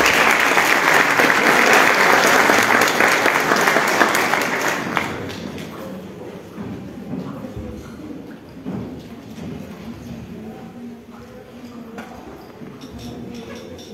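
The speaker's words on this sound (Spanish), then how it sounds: "Les dejo un fuerte aplauso y bienvenidos a todas y todos." An audience at a solemn municipal council session claps in a strong wave of applause that fades after about five seconds, leaving quieter room murmur and scattered sounds.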